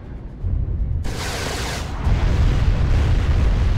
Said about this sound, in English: We got Air Force coming in there, dropping some explosions.